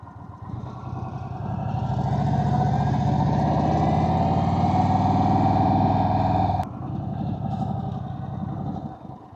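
An Indian Chief Vintage motorcycle pulling over at a beachfront, its engine loud and close, rising in steady throttle and then dropping sharply to a lower idle-like rumble.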